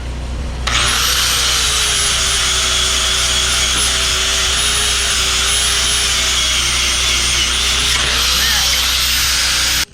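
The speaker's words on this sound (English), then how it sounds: "he's over here cutting anchor bolts" A bandsaw cuts through steel anchor bolts in a welding shop, a loud, continuous high-pitched grinding whine that runs steadily for several seconds with slight pitch wavers, ending abruptly.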